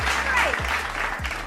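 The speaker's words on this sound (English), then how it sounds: "Come on now, clap it up." People clapping along during a Cowboys podcast, a brief dense patter of hands over a low repeating musical bass pulse.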